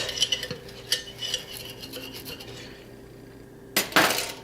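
Serrated knife sawing through a grilled cheese sandwich, a series of close scratchy rasping strokes with soft crunches, a quiet pause, then two louder crisp crunching cuts at the end.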